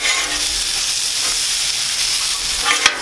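Breakfast sizzling loudly and steadily on a Blackstone griddle, a near continuous hiss with a sharp spatula clink near the end, no talking.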